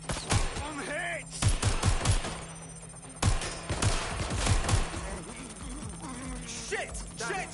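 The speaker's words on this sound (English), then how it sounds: "Shots fired! Shots fired!" Several bursts of gunfire crack out in the Watch Dogs: Legion game, some rapid like automatic fire, with loud shouting voices between and over the shots.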